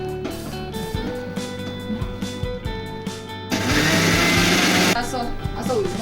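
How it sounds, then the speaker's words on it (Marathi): A mixer grinder whirs loudly for about a second and a half, grinding gulab jamun mix powder after a brief earlier burst, with kitchen sounds and background voices around it. "आता ते आपल्याला असं मिक्सरच्या भांड्यात काढून घ्यायचं आणि मग त्याला एकदा असं मिक्सरमधून फिरून घ्यायचं।"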